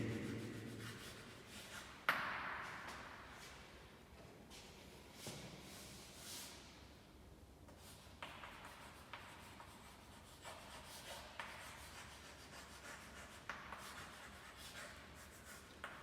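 Faint, steady rubbing and scratching of a formula being written out during a physics lesson on capacitor energy density, quiet strokes continuing for the whole stretch with no talk.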